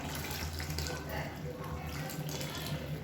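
Roasted gram powder dissolved in half a tumbler of water being poured into a pot of sambar in a home kitchen, giving a steady, close liquid pouring and splashing sound with a low hum underneath.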